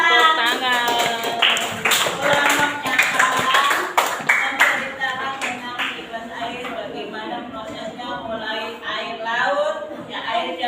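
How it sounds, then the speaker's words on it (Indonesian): A classroom crowd claps together in a burst of applause, with lively chatter and children's voices mixed in and continuing underneath. "yuk tepuk tangan."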